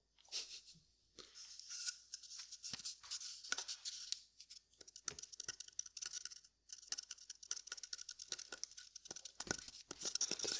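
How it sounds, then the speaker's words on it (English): An empty cardboard paper towel tube is handled up close, producing a fast, busy run of dry scratching, rubbing and crinkling taps with short pauses, quiet and free of talk. "It is, of course, the cardboard tube, or the empty paper towel roll."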